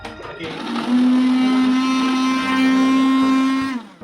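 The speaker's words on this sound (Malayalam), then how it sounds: "ഇത് നമ്മൾക്ക് മിക്സിയിൽ അടിച്ചതിന് ശേഷം കാണാം" A mixer grinder whirring loudly as it blends tomato and lemon, a steady high-pitched motor whine spinning up, holding for about three seconds and then winding down, close and alone.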